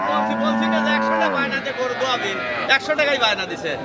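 A cow moos loudly and close at a busy cattle market, one long drawn-out low call that falls in pitch, with crowd babble and voices around it.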